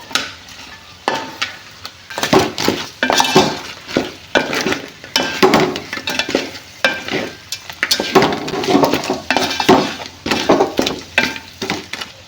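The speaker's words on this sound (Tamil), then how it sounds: "நல்லா ஒரு பெரட்டிப்போம்." Crab biryani stirred in a pot for a spicy South Indian meal, with repeated scraping and turning strokes over a soft sizzle, steady and close with no voices.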